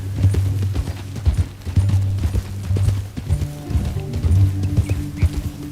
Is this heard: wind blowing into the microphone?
no